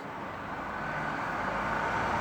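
A large truck rolls past on a nearby road, a steady broadband engine and tyre roar that holds level and swells slightly over about two seconds, with no voices.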